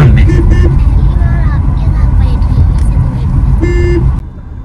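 A car carries passengers along a road out to farm fields during rice transplanting season, its engine and tyre rumble loud and steady from inside the cabin, with a couple of brief tonal beeps or horn toots before it cuts off.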